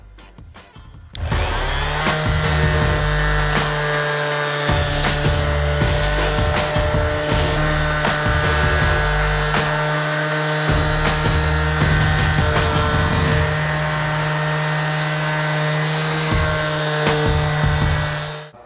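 A TA-01-540 vibrating sander works a wooden surface, starting up after a brief pause and then buzzing loudly and continuously nearby with scraping, rubbing variations as it moves, no talk.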